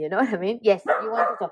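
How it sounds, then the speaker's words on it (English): A dog vocalises up close in a short run of yips and drawn-out, howl-like barks, mixed with a person talking. "sorry about the dog"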